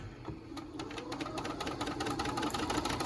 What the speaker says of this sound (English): So I just increased my stitch length and I'm going to baste this down.